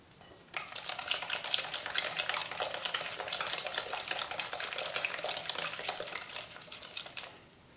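A utensil clatters steadily against a bowl while apple cake batter with dried fruit is stirred, producing a dense, rapid scraping and tapping that runs continuously for several seconds before stopping, close up and with no talking.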